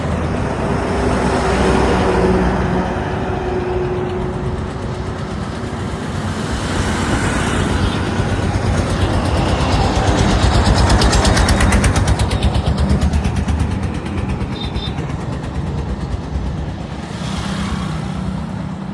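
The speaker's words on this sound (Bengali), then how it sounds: "হার্ডিং ব্রিজের উপর দিয়ে ট্রেন যাওয়ার দৃশ্য উপভোগ করে" A train rumbles steadily across the long steel Hardinge Bridge, a continuous loud roar with rhythmic clatter swelling toward the middle and easing off, with no voices over it.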